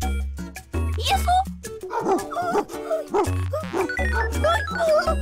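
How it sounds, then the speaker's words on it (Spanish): A dog barks and yips in a cartoon episode set on a cursed island, the short barks recurring under near-constant animated voices and music. "¡Un perro asesino! ¿Escuchás?"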